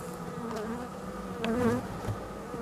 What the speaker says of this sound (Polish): są pszczoły w podkarniace